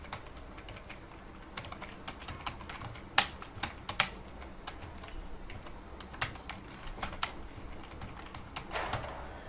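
Someone types text on a computer keyboard during a PHP coding tutorial: quiet, irregular keystrokes with occasional sharper taps and short pauses, recorded close up against a faint room hiss.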